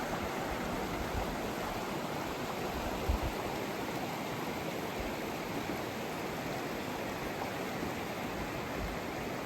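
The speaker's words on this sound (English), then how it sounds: "And then there's the river." Rushing river rapids beside a mountain campsite, a steady broadband roar of whitewater filling the scene at close range with no voices.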